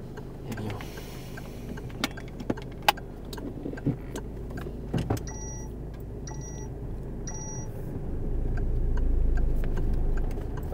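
Inside a running car, a turn signal indicator ticks in a steady, evenly paced series of sharp clicks over a constant engine and road hum, with a few brief electronic chimes midway and the rumble swelling near the end.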